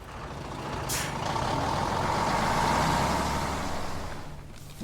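A fully loaded Nepalese cargo truck carrying Chinese goods rumbles steadily at a border customs point on the Tibetan plateau, its engine noise swelling and easing, with a brief hiss like an air brake near the start.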